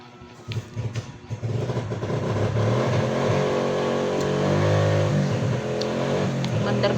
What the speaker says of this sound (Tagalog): Si Ronald lang yung nakakapaandar ng motor ni Papa Bits